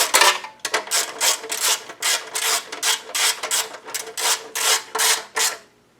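A 1/4 inch ratchet snugs the ignition coil bolts on a Predator 212 small engine, giving about a dozen close, rhythmic bursts of clicking strokes with no talk.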